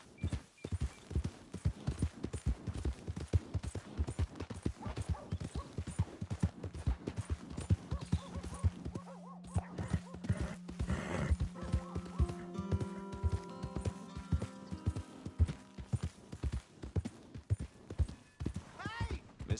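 Horse hooves clip-clop steadily in Red Dead Redemption 2, a close, rhythmic trot that runs throughout with a brief pause near the middle, joined by a whinny and other game sounds while people talk over it.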